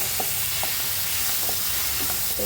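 Amaranth and fenugreek leaves frying in a pan, a loud constant sizzle with light, regular stirring taps and scrapes of a spatula running through it.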